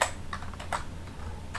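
Quick bursts of keystrokes on a computer keyboard, clicking in a few uneven clusters, close and fairly quiet.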